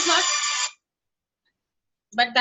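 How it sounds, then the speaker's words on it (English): A mobile phone ringtone rings during an online meeting, with a bright tonal burst, a pause of silence, then the ring starting again, loud and close. "I'm sorry, my phone is ringing"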